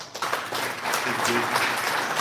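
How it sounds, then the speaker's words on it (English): Crowd applause at a bass fishing seminar in a tackle shop fills the space steadily, a dense wash of clapping that holds at an even level, with some voices mixed in. "Give him a round of applause."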